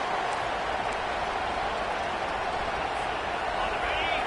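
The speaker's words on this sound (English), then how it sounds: "listen to this crowd noise. This stadium is vibrating." Dense, steady roar of a big stadium crowd at a college football playoff game between Arkansas and Texas A&M, a continuous broadband wash of cheering and noise filling the whole clip at constant loudness.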